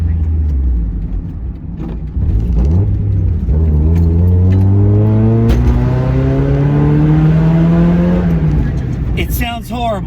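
A Mazda Miata fitted with a cheap aftermarket exhaust accelerates through a turn, its loud engine note climbing steadily in pitch across several seconds before easing off near the end.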